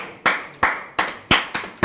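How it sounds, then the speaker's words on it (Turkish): Hands clap six times in a steady, slightly uneven rhythm, sharp and close, each clap ringing briefly before the next, with no voices. "Alkış gelir bence de."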